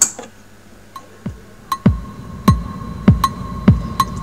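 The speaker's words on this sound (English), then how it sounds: "my phone with a polyrhythmic metronome, which is set as" A phone metronome set to 79 BPM with a 5-on-4 polyrhythm ticks in two interlocking patterns: bright high clicks alongside low thumping kick-like beats. The rhythm is steady and close, with a faint hum underneath.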